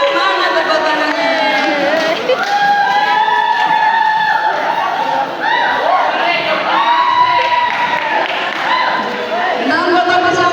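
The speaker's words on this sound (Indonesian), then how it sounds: "Mana tepuk tangannya?" A crowd at a prize-giving during a Maulid Nabi celebration cheers and shouts loudly and continuously, with children's excited voices mixed in and little distinct clapping.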